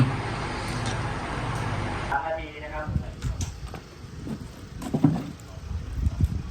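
Strong wind buffets the microphone at a hot outdoor 100-metre shooting range, a steady rushing roar that dies down partway through, leaving quieter background rumble and faint knocks.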